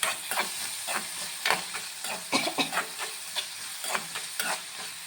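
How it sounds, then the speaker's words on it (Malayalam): White bitter gourd thoran with curry leaves being stirred in a pan, a light sizzle running underneath while the spoon scrapes in irregular, clustered strokes, close and steady, with no one speaking. "നമുക്ക് നന്നായിട്ട് ഇളക്കി കൊടുക്കാം."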